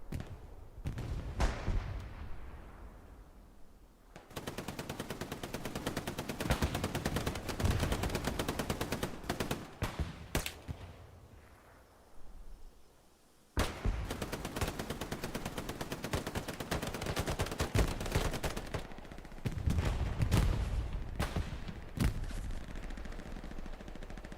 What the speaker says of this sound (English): He hears the gunshots.